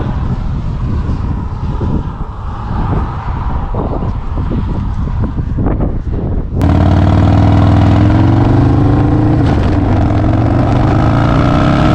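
A custom Harley-Davidson Low Rider S motorcycle, said to make nearly 400 horsepower, rumbles nearby with gusts of wind, then its engine swells into a loud, steady, harmonic-rich roar from about halfway on.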